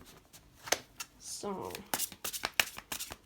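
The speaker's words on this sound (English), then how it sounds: "these cards are pretty big to shuffle, and I've got small hands" Large tarot cards are shuffled by hand in a series of quick crisp riffles and flicks close to the microphone, broken by a brief spoken word.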